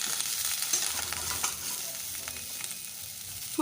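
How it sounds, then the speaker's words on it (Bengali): Cauliflower pieces frying in oil in a kadai, giving a continuous soft sizzle with occasional stirring scrapes, close but fairly quiet. "এবার আমি কড়াইতে ফুলকপি দিয়েছি, ফুলকপিগুলো ভালো করে ভেজে নেব"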